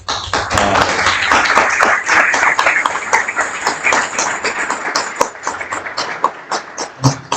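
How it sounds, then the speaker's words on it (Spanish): A conference audience at a church event in Argentina applauds loudly, the dense clapping gradually thinning into scattered, rhythmic individual claps before fading. "pedirle un aplauso por asistir a esta conferencia"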